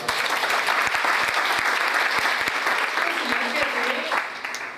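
Loud, sustained applause from a large audience at a motivational workshop in Pune, dense and continuous, with a few sharper individual claps standing out before it eases off at the end.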